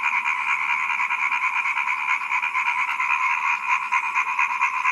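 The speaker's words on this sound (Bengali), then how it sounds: "এটা কিন্তু ব্যাঙের ডাক" A dense chorus of frogs croaks continuously outdoors after rain, a loud, even, pulsing drone with no talking over it.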